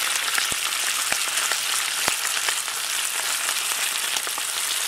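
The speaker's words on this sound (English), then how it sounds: "And now all we have to do is fry it." Thick slices cut from a block of bacon fry in a pan with a dense, continuous sizzle and spitting pops that carry evenly from start to finish, close up, with no talking.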